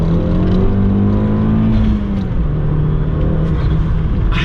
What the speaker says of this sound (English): you really hear the engine, you hear the turbo, you hear the blow-off valve